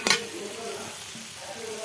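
Ground coriander, turmeric and chili powder hit fried onions in hot oil for a hilsa and pumpkin-vine curry, giving a soft, steady sizzle after a brief clatter at the start.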